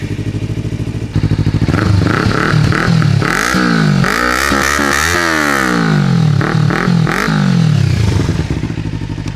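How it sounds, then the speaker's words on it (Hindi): A Kawasaki Ninja 300 motorcycle fitted with an Arrow exhaust revs hard several times, the loud close engine note rising and falling in repeated sweeps over a steady idle. "एक बार मैं एग्जॉस्ट की साउंड आपको सुना देता हूँ। ये जो एरो का एग्जॉस्ट लगा हुआ है,"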